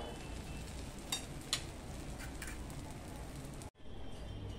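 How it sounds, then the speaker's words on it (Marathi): A soft amboli rice pancake cooks in a pan after being flipped, giving off a faint, steady sizzle with a couple of light taps, cut briefly near the end. "आता आपण ही पण पोळी ना पलटून घेऊया।"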